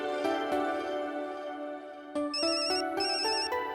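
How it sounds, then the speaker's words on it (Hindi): Mobile phone ringtone ringing loud and close, a bright repeating electronic melody that shifts to a higher, busier tune partway through, with no voices over it. "तुम्हारा फोन बज रहा है"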